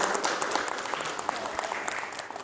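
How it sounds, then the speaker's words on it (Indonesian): An audience at a campus podcast talk breaks into applause after a question, a dense patter of many hands clapping at close range that holds steady for a couple of seconds before tapering slightly. "Boleh kita beri tepuk tangan teman-teman?"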